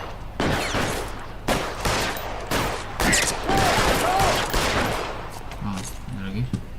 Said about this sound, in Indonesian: Ada tembakan itu.